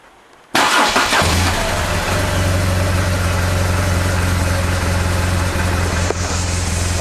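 A BMW R1200GS motorcycle engine starts up and settles into a steady, loud idle with a low throbbing rumble, running continuously.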